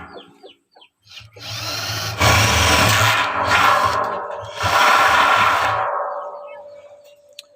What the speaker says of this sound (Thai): เจาะรูประมาณนี้นะครับ เจาะรอบถังเลยนะครับ